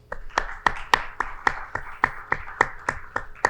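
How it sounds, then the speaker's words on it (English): Applause for invited speakers at an academic conference opening, coming through as regular, evenly paced hand claps, crisp and fairly close, sounding like a small number of people clapping in unison without talk. "A big round of applause for all invited speakers."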